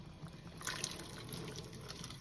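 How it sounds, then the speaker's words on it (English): Rinsed canned chickpeas tumbling into a pot of chicken soup, a faint liquid splash and trickle with a couple of soft plops near the middle, quiet and close. "She is now adding the 2 cans of rinsed chickpeas"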